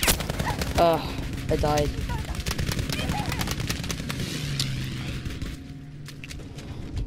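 Gunfire in the video game Battlefield 5 crackles in rapid, sharp bursts throughout, moderately loud, mixed with game effects, while a player speaks briefly.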